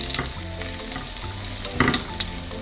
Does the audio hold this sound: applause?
no